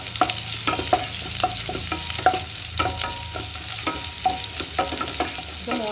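Mustard seeds crackle and pop while tempering in hot oil for Kerala jackfruit puzhukku, a steady close sizzle broken by repeated sharp spatters and faint stirring clinks, with no voices.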